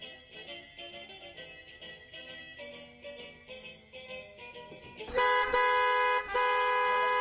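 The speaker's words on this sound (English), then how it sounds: "What a busy traffic on this Friday evening." Busy Friday evening road traffic, with repeated car horn honks over the flow of vehicles and a long, loud blast of horns near the end.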